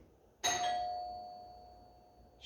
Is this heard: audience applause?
no